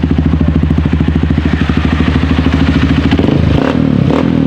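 A Honda CRF 150L motorcycle engine idles close up with a steady, rapid thumping pulse, a loud mechanical clatter throughout, and a brief throttle change near the end.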